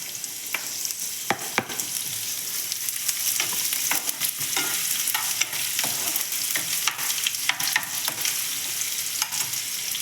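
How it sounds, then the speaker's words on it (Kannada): Onion and green chillies fry in hot oil, giving a loud, dense crackling sizzle with sharp spitting pops and occasional stirring scrapes. Close, continuous, and without speech. "ಈ ಎಣ್ಣೆಗೆ ಈರುಳ್ಳಿ ಮತ್ತು ಹಸಿಮೆಣಸಿಕಾಯಿ ಹಾಕೋತಾ ಇದ್ದೀನಿ"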